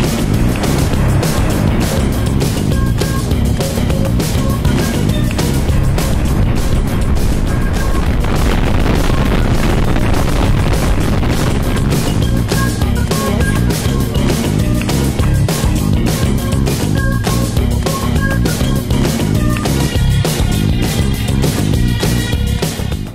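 Airflow in a Mercedes wind tunnel at 40 km/h, a loud, steady broadband rush with gusty buffeting that continues unbroken for the whole stretch, with no voices over it.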